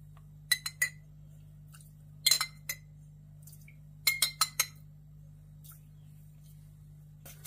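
A spoon clinks against a bowl while stirring sugar and water in several quick bursts of light, ringing taps, separated by quiet pauses.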